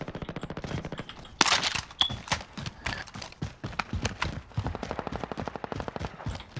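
Rapid AK rifle fire in the game COD Warzone, with dense, continuous automatic bursts at a steady fast rhythm, loud and close, broken only by brief pauses and sharp impact cracks.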